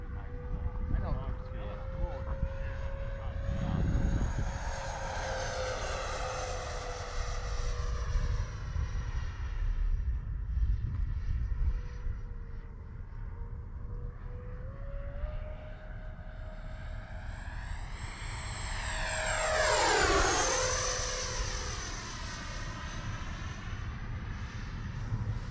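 An E-flite Su-30 model jet flying, its electric ducted fan whining and shifting in pitch as it passes, with a strong rising and falling sweep near the end, while a person talks over it.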